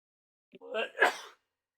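A single sharp sneeze with a quick intake of breath before it, close and fairly loud, surrounded by silence.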